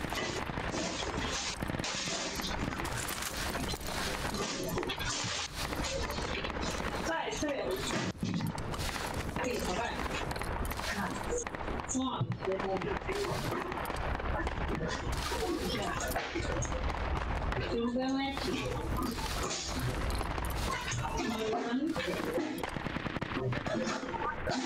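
Sustained gunfire rattles through a Project Reality 2 battle, dense bursts and single cracks, some near and some distant, continuing over voices talking throughout.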